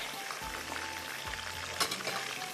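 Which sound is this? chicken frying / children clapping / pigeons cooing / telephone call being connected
chicken frying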